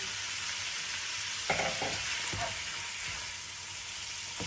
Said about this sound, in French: je vais venir y ajouter mes 500 g de crevettes décortiquées